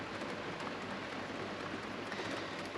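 Rain pours onto a sailboat with its hatch closed during the wet season, a dense, even hiss of drops on the deck and cabin. It goes on unbroken, with no one speaking.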